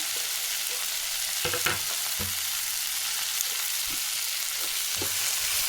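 Dried red chillies and grated coconut frying in a pan for mutton sambar, a constant loud oily sizzle with occasional stirring scrapes and taps, no talking.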